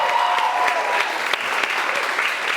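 Audience applause at the close of a college late-night comedy show, a dense, steady clapping from a crowd filling the room throughout, with no speech over it.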